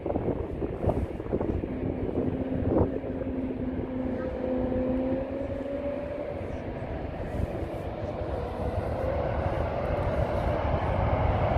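Airplane near San Francisco International Airport (SFO) on takeoff, a steady broad roar with a rising engine whine, heard outdoors beside a marshy shoreline with wind buffeting the microphone throughout.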